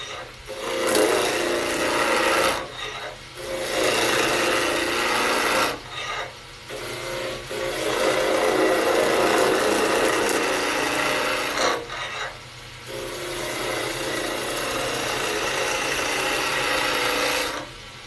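A skew chisel cuts wood spinning on a lathe, giving loud, continuous rasping scrapes in long bursts broken by brief pauses, with no talking.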